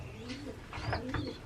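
Young Van Den Bulck racing pigeons coo softly in a loft, with a few short burbling calls close by and a faint background hum.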